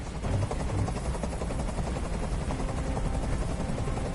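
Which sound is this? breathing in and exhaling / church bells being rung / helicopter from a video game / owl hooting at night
helicopter from a video game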